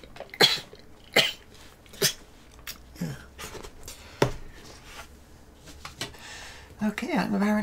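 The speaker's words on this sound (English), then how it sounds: "Okay, I'm apparently just sneezing today." A person sneezes several times in quick sharp bursts during a build session, close and loud, with a brief bit of talk at the end.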